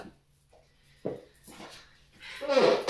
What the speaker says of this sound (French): Excusez-moi pour le bruit de la chaise.